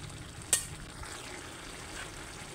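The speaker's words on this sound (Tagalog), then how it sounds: "Baliktad natin muna ang ating tulingan." Tulingan fish cooking in sauce is flipped in a pan, giving one sharp clatter followed by a low, continuous sizzle and simmer.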